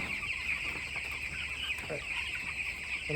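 Many well-grown broiler chickens cluck together in a crowded poultry shed, a dense continuous chorus over a steady high mechanical whine.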